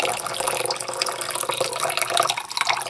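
Hot water pours steadily into a measuring cup in a kitchen, a close, bright splashing and gurgling stream that runs without a break for about three seconds.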